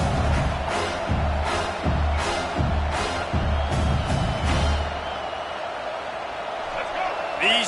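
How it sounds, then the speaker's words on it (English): Home crowd at a football game roars through a loud, sustained din, with rhythmic surges and chant-like pulses. An announcer talks over it. "how nice is it to have the home crowd going absolutely bananas?"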